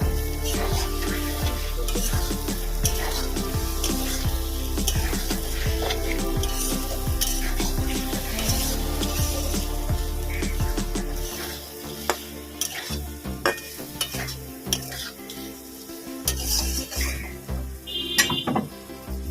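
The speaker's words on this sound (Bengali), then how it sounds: "আমি আচার দিয়ে দেবো এখানে দেবো কাঁচা আমের টুকরো এটা ভালো করে কষিয়ে নেব" Green mango pieces and pickle sautéed in oil in a pan for a Bengali prawn curry. Steady sizzling runs under repeated spatula scrapes and metallic clinks against the pan, and the frying quiets partway through while stirring taps continue.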